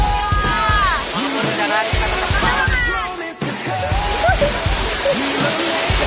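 Water pours and splashes over a person during a behind-the-scenes shoot for a Bali green ambassador pageant, a steady rushing sluice under loud, excited voices and shouts throughout.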